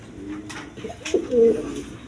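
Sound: red Rajgolla pigeons cooing

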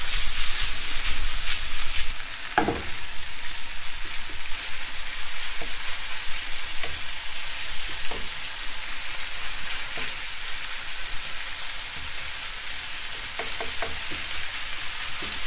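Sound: minced beef frying on high heat

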